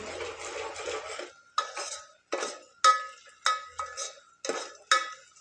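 A spoon stirring frying onions in a pan while making garlic-onion chutney, a series of about eight sharp metallic scrapes and clinks in an uneven rhythm, close and clear against near silence.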